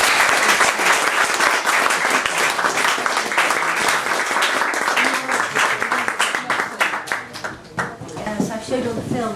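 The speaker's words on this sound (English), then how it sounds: "Can we have another round of applause for Lizzy," A seated audience claps for a guest speaker at a talk. The applause is full and steady throughout and thins slightly in the last moments.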